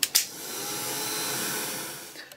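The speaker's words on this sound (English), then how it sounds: "I'm just going to give it a blast with the heat gun though." A heat gun blows steadily over a mixed-media art journal page, a smooth airy whoosh lasting about two seconds with brief clicks at the start and a fade at the end.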